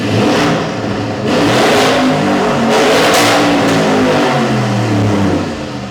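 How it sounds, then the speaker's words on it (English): Audi RS6 with a biturbo V8, downpipe intakes and several upgrades revving hard on a track, a loud close engine note rising and falling through repeated throttle blips with steady mechanical roar between. "RS6, the V8 B-Turbo with the downpipe intakes and a couple of upgrades"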